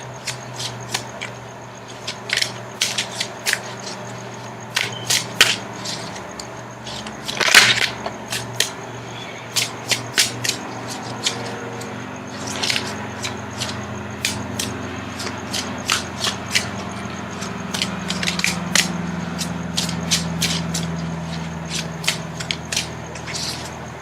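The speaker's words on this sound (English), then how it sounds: "Now I'm going to shuffle for the outcome card." A deck of tarot cards being shuffled by hand at close range, with repeated crisp riffles and slaps in uneven bursts over a low steady background hum, no talking.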